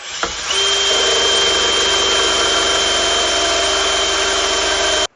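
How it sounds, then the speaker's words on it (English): A power drill spins up sharply and whines at a steady high pitch for several seconds, loud and close, then cuts off abruptly. "That was this drill at full speed,"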